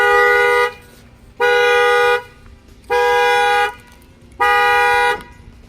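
An Acura TLX car alarm, set off by banging on the key lock, sounds four loud, even horn-like blasts, each lasting about a second, separated by short pauses.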